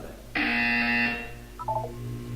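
A loud, steady electronic buzzer tone from the game Portal 2 sounds for about a second, followed by a quick descending run of soft electronic blips.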